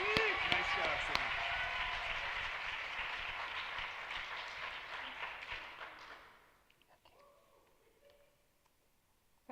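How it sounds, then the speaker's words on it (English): Graduation audience at Harlem Academy's commencement applauding a student: several seconds of steady clapping with a few cheers, dying away around six seconds into quiet room noise with faint voices. "Let's have a round of applause for my good friend, Savannah Nunez"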